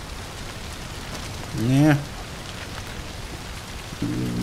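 Rain falling in Red Dead Redemption 2, a steady broadband hiss of downpour on surfaces running throughout, with a brief spoken word and a short tonal sound over it.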